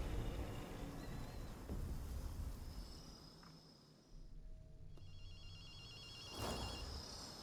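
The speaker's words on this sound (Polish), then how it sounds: "Akito, słyszałeś telefon?" A telephone rings faintly in the game Ghostwire: Tokyo, a warbling electronic ring repeating in short bursts against quiet ambient game noise.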